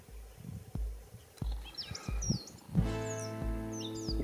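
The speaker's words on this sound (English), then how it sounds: "Bird life out here is crazy." Small birds, including a wren, chirping and tweeting in the Mallee bush at morning, with bright scattered calls over low thumps and rustling nearby, then a sustained buzzing tone.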